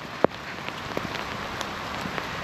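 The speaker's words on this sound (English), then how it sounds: "Sun, rain, hail." Rain and hail fall during an outdoor walk around Castleton, a steady patter of drops on surfaces with a few sharper, louder ticks standing out from the hiss.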